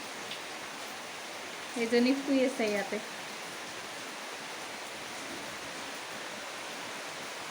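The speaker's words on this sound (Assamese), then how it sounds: "এতিয়া আমাৰ ইয়াতে পুৰা বৰষুণ দি আছে।" Heavy rain falls outside in a steady, even hiss that lasts the whole stretch, with a brief voice speaking softly near the start.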